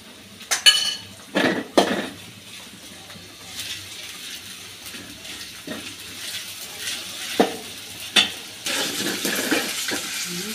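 Chopped onion and garlic paste frying in a pan, stirred with a small teaspoon that clinks and scrapes against the metal in scattered knocks over a soft, steady sizzle.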